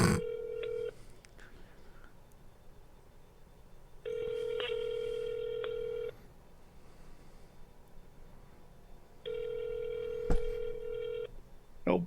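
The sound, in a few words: telephone call dialing and ringing unanswered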